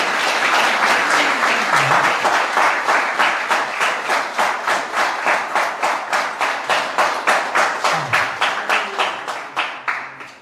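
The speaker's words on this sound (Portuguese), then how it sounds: "Dê uma salva de palmas para Jesus" A church congregation claps after a baptism, starting as scattered applause and settling into loud, rhythmic unison clapping on a steady beat that fades toward the end.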